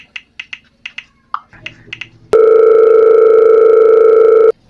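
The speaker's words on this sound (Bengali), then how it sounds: "একটা ফোন দিই।" Rapid keypad beeps as a number is dialed on a phone, followed by a loud steady dial tone held for about two seconds before cutting off.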